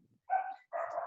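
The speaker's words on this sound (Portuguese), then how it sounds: "o cachorro que está latindo é aqui em casa" A dog barks inside a house, giving two short, fairly faint barks that are heard alone.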